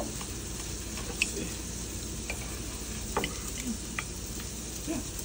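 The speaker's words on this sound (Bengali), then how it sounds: "আর আমরা একটুখানি তার সাথে একটু গার্লিক আর একটু পটেটো ফ্রাই করে নিচ্ছি" Garlic and potatoes frying in a pan, a constant low sizzle with occasional small pops and scraping clicks from stirring, quiet and close.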